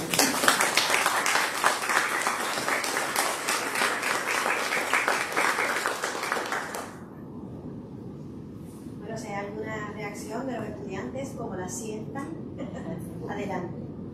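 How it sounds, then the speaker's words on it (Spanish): Audience applause at a book presentation on theatre, a dense, loud burst of clapping for about seven seconds that stops abruptly, after which people speak over a quieter room. "Así que el aplauso para ti, Rosalina."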